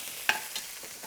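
Oil added to a frying pan of eggs, a quick splashy hiss followed by soft sizzling and a faint scrape or two, brief and moderately quiet.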